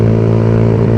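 Keeway Cafe Racer 152 motorcycle engine running steadily and loud up close, a dense droning rumble with a crackling, popping exhaust texture throughout, no voices.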